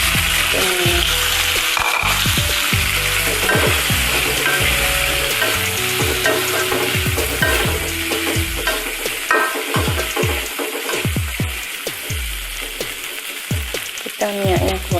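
Sambal bawang ingredients fry in hot oil with a loud, continuous crackling sizzle close by. Frequent clanks and scrapes from stirring run throughout, and the sizzle stays strong for the whole stretch, with no speech.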